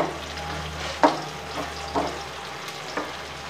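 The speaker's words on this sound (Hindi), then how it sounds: "1 चमचा भर के मैंने ज़ीरा डाल दिया इसमें" A spoonful of cumin seeds sizzles and crackles in hot oil in a pan. The frying hiss holds steady, and sharper scrapes or pops land about once a second, like stirring, with no talking.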